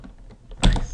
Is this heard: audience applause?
no